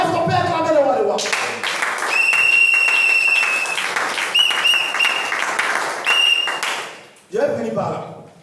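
A church congregation at the Tabernacle de Strasbourg breaks into loud, sustained applause and cheering for several seconds. A voice speaks just before the applause begins and again as it dies away.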